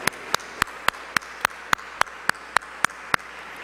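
Clapping for Mother Tainetta Muhammad, heard as a slow, evenly spaced series of about a dozen sharp single claps, moderately loud against a quiet room.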